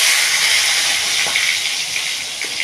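Tomatoes dropped into hot oil in a pan for a pabda fish curry, a loud bright continuous sizzle and hiss, close and steady, slowly easing over a few seconds.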